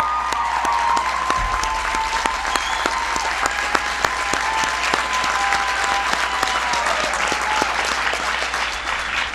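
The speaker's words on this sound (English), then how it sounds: "Give Tom a big round of applause." An audience at a presidential bill-signing ceremony for the Violence Against Women Act gives a big, sustained round of applause, with steady dense clapping and sharp individual claps standing out over a soft crowd murmur for several seconds.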